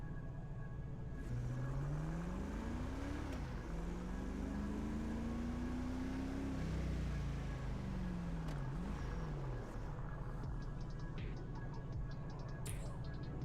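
Car engine driving in a GTA roleplay game, a steady low drone that rises and falls in pitch through several gear shifts, mid-level and continuous with music-like tones faintly beneath, no talking.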